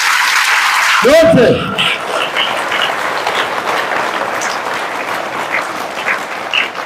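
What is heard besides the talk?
children applauding themselves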